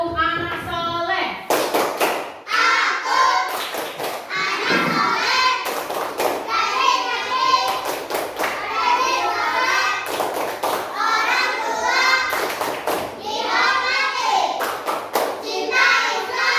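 Children performing the tepuk anak soleh clapping chant, sharp rhythmic bursts of group claps interleaved with their chanted voices, close and loud, repeating in a regular pattern throughout.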